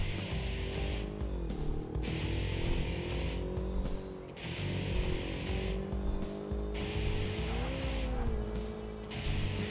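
A car in a racing video game, its engine revving hard and repeatedly climbing then dropping through gear changes, with tyre squeal, loud and close throughout.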